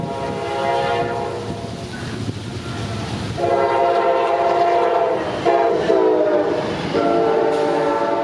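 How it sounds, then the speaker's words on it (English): Amtrak 41 passenger train led by engine 160 in a Pepsi can paint scheme passes Wabash in a heavy downpour, sounding a loud, sustained multi-tone horn in several long blasts over the rumble of the moving train. "here in the downpour at Wabash would be Amtrak 41 with engine 160 in the lead"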